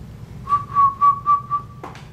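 Someone whistles five short, airy notes at the same pitch in a steady rhythm, quietly and close by, followed by a brief breathy sound.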